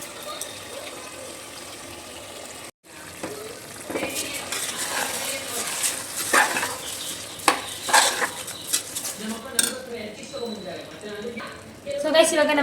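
Rice being fried and stirred together with a tomato masala in a pan, a steady sizzle broken by repeated scraping and clinks of a spoon against the vessel, with a brief dropout partway through and a voice talking over it.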